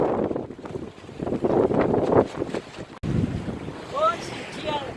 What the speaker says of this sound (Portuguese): deve ter entrado vento na faixa aí de mais de 30 nós